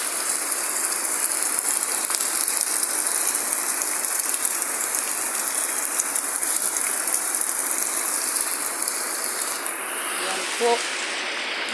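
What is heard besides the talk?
heavy rain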